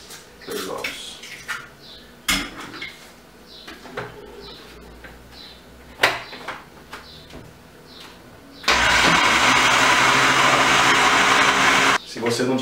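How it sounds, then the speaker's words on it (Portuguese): A few clinks and short sounds, then a blender mixing milk and eggs for a bread pudding roars loud and steady for about three seconds before cutting off abruptly. "coloque tudo no liquidificador"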